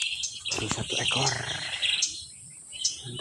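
A berencet berkening wren-babbler calls during a bird-luring session, giving short, bright, repeated chirps over insect buzz, with people's voices faintly in the background.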